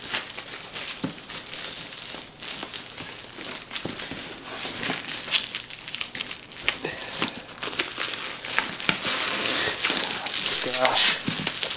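Protective film ripped off Corsair AX850 Professional Series power supply packaging gives a steady, close crinkling and crackling of plastic that builds in loudness and runs throughout.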